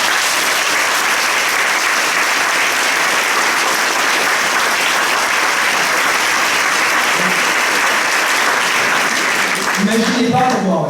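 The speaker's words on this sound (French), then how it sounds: "je vous propose de les applaudir pour ce beau spectacle qu'ils nous ont fourni" A theatre audience at the 2016 La Basoche show gives the performers a loud, steady round of dense applause that fills nearly the whole stretch, with a voice starting up briefly at the very end.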